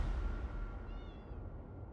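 A single short cat meow in the online role-playing game The Elder Scrolls Online, close and fairly soft over low background game ambience.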